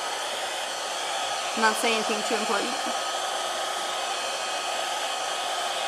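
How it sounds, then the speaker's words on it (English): A hair dryer blows steadily and close up while drying a water-soluble pastel landscape painting, a constant whooshing hum throughout, with a brief spoken remark partway through. "the sound of the hairdryer"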